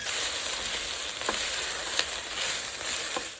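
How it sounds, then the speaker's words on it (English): Vegetables frying in hot neutral oil, giving a steady, dense sizzle throughout with a few faint stirring scrapes, close up and with no voices. "Stir in all of your vegetables."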